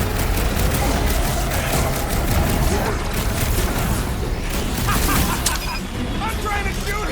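Dense, continuous gunfire and combat noise from the Guardians of the Galaxy game fill the scene at a steady loud level, with voices talking over the chaotic shooting throughout.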